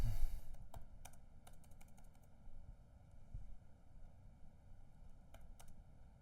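Keystrokes on a computer keyboard while code is entered, sparse clicks in short bursts separated by pauses over a low steady room hum, close and moderately quiet.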